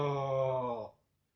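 A single long, low moo, steady and resonant, fading out near the end and followed by silence.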